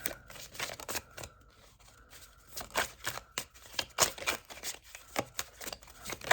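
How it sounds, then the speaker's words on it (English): Tarot cards are shuffled by hand at close range, a run of quick papery riffles, slaps and taps in uneven bursts, fairly quiet and with no speech. "If I could just get through a shuffle without a bunch of cards falling out."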